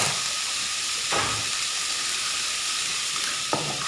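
Sausages sizzle steadily in a hot pan for raclette, a constant close frying hiss with a couple of soft bumps from the pan, no talking.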